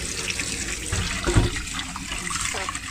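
Tur dal lentils being rinsed in water in a kitchen, with a steady wash of running and swirling water and a brief louder splash near the middle, no voices heard.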